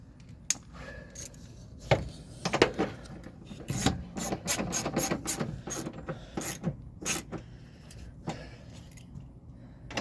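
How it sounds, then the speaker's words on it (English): Ratchet tightening two 7mm bolts on a wheel well liner of a 2021-2024 Ford F150, heard as close, irregular bursts of clicking and rasping mechanical strokes with short pauses between them, with no talking. "Now I'll just tighten up my two 7mm bolts."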